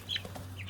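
Meat chickens on their sixteenth day let out a short, quiet cluck and chirp, close by over a steady low hum.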